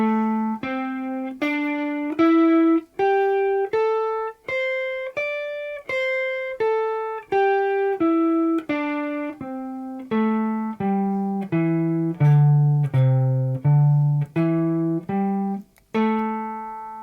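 An unaccompanied guitar plays one full cycle of the minor pentatonic scale in pattern 2, about seventeen clean, evenly picked notes climbing and then falling back down, each ringing briefly.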